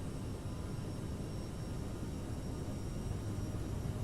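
Jet engines of an Aerosoft CRJ in Microsoft Flight Simulator spool up at takeoff power on departure, producing a continuous broad roar with a faint high whine, steady and alone.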